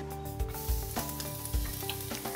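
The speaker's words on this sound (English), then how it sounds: "Love to hear that sizzle when you first put the garlic in the pan." Garlic sizzles steadily in oil in a Dutch oven, with a few clunks and stirring scrapes over a hum, close and fairly loud, no voices.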